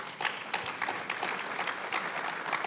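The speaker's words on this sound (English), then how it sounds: "a round of applause for the whole panel" An audience at a panel discussion on Ontario's housing crisis applauds, with a steady, moderately loud spread of clapping and a few sharper individual claps standing out.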